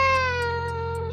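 A cat in a hillside home in Uttarakhand gives a single clear, drawn-out meow close by, loud and steady before trailing off, with no talk over it.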